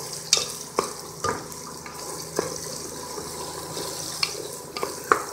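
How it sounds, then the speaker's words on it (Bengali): Onions cooking in a pot for Arabian khebsa, a low sizzle under intermittent metallic clanks and scrapes as a spoon stirs them at close range. "আমি নেড়ে দিচ্ছি"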